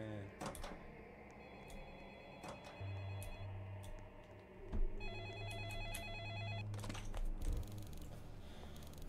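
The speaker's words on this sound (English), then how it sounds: "I think I'm gonna answer this stupid fucking phone" A telephone rings inside a horror-flavored video game set around a gas station job, with repeated electronic ring bursts over a continuous low game hum and ambient effects.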